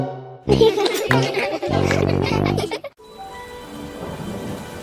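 Rain falls in a cartoon scene, a rushing downpour with a heavy thunder-like rumble, then a softer, quieter patter of rain toward the end.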